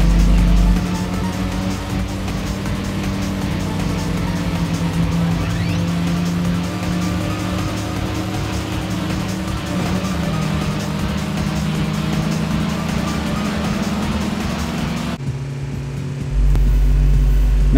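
Race cars in a Sega Dreamcast racing game roar steadily with sustained engine drone and tire noise, loud and continuous, briefly dropping near the end before resuming.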